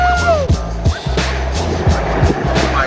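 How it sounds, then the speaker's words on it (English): A tuned Toyota Tundra truck with an aftermarket exhaust rumbles loudly with pulsing low revs and rising engine notes, heard up close over a few seconds, with no talk. "I'm just listening to the exhaust. I love the way it sounds."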